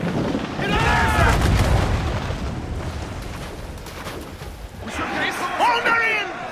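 Ship cannons boom heavily during a naval battle in Assassin's Creed IV Black Flag, with deep blasts rumbling early and again later while crew voices shout over the fighting.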